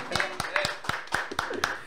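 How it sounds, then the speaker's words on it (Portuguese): Hands clap in a steady rhythm inside a radio studio during a live interview with a band, with about seven sharp claps over a couple of seconds, close and moderately loud, mixed with background voices. "Vamos bater palmas aqui."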